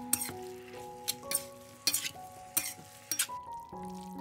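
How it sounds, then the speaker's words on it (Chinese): Stewed pork belly with vermicelli stirred in a pot with spring onion, red pepper and coriander, giving soft scraping and clinking of utensil against the pot in irregular bursts over a low bubbling sizzle, close and without talk. "拌匀出锅"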